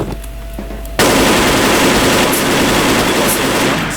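Automatic gunfire in the online shooter Wolfteam, a sustained rapid burst that starts abruptly after a quiet second and stays loud to the end.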